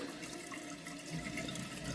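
Water runs steadily into a toilet tank, leaking past the flapper, a close, continuous hiss and trickle with no voices over it.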